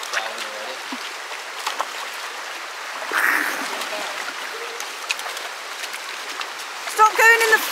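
Rain falling outdoors on Exmoor gives a soft, steady hiss of drops across open countryside, faint and continuous, with brief louder rustles and a few distant voices.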